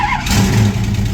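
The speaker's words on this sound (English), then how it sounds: "Hopefully it starts up and backs right off of there." A truck engine turns over and catches during work with a trailer, a loud, close rumble swelling briefly and settling into a steady running drone.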